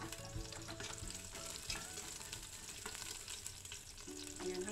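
Ginger and garlic sizzling in a pan for a beef tendon curry, a soft continuous frying crackle with occasional stirring knocks, faint and close, no speech.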